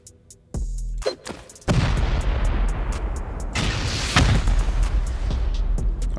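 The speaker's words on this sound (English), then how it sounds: "There's freaking people outside shooting." Gunfire rings out outdoors in a shooter video game, loud booming shots and rolling echoes building into a sustained barrage after a few isolated reports.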